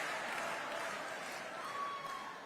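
Faint, distant applause from a large convention audience, a soft continuous wash of clapping and crowd noise, fairly quiet throughout.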